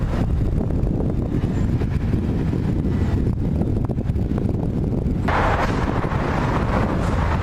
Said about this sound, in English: I don't know what to do about the noise of the wind